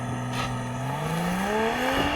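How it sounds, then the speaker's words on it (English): A BMW launches hard with launch control, engine pitch climbing smoothly through a gear as it accelerates, heard from inside the cabin at moderate level without speech. "I'm gonna launch it. And this car does have launch control, so here we go."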